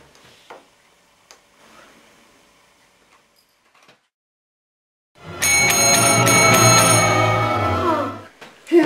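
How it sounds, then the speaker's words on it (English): A bell rings loudly and close for about three seconds in a house, a bright sustained ringing with layered overtones, coming after a long stretch of faint room noise and small knocks. "That bell just ring?"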